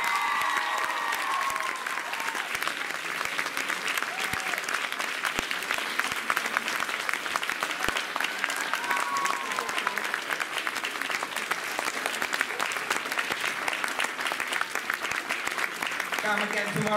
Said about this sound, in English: let's have a round of applause for our amazing ACS musical director